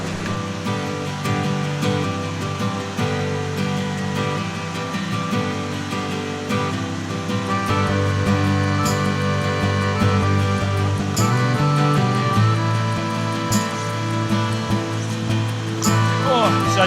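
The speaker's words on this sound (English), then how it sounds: "Let's get down to this waterfall." A waterfall rushes steadily and loudly close by at a winter campsite, a continuous broad wash of falling water throughout, with faint voices and other tonal sounds mixed underneath.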